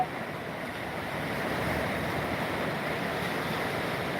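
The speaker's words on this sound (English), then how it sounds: "you guys can see some pretty good rapids going on out there." Muddy floodwater surging in rough rapids and waves over a fully submerged beach, a steady broadband rushing roar that swells slightly louder after the first second, with some wind buffeting and no voices.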